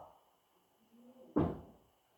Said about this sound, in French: La porte, elle est ouverte!